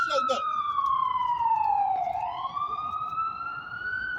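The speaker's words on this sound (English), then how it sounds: "I'm just waiting for the sirens to come out." A wailing siren sweeps down and back up in pitch, loud and continuous over a background of crowd noise at a public safety rally in Brooklyn.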